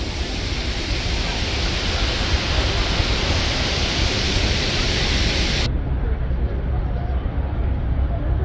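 A steady, dense roar of falling water from Niagara Falls fills the clip, broad and continuous, its hiss dulling slightly toward the end.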